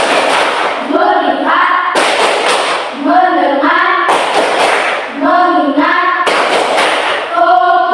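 A classroom of pupils claps in repeated rhythmic bursts while chanting together in unison, loud and close, in four evenly spaced rounds.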